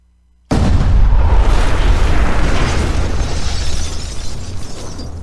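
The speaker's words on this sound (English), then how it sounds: "And then there was an explosion." Video game explosion bursting suddenly after a brief silence, a loud deep boom followed by a long rumbling, crackling tail that slowly fades, close and dominant with no talking.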